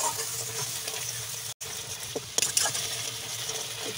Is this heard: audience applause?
no